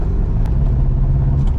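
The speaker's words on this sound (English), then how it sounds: "So there it was misfiring slightly as well because there's too much oil in there and the plugs are getting coated." A Ferrari 308 engine burning too much oil, with oil-fouled plugs, runs at a steady loud rumbling idle with a slight misfire, heard close and alone for a brief moment.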